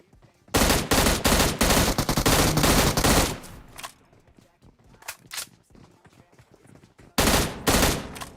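Bursts of automatic gunfire in the mobile battle royale game PUBG Mobile: a long sustained rapid volley, a stretch of quieter scattered shots, then another loud rapid burst near the end.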